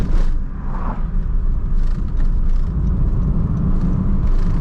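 Car driving along a road in Jamaica, heard from inside as a steady low rumble and road whir that stays loud and even throughout, with no voices.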